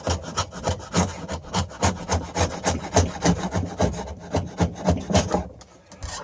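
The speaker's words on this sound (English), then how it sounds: "So I have to come back with my chisel" A chisel pares and cleans a rough, ruffled wooden edge left by sawing, giving close, steady rhythmic scraping and rasping strokes that repeat in quick succession, then ease off near the end.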